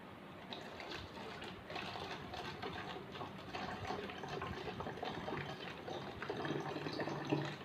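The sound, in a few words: filling a plastic bottle with water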